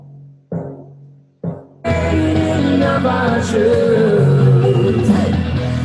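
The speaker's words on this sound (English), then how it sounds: "a timpani in verse 2, it adds a bit more depth to beats 2 and 4" Timpani hits on beats 2 and 4 during the second verse of a produced pop-dance song, sounding as deep booming strikes after two sparse isolated hits, then carried inside a dense, loud full mix.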